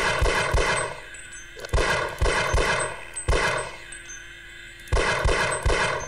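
Pistol fire in Half-Life, repeated sharp close shots spaced roughly every half-second to second, some in quick pairs, over a steady ambient game hum.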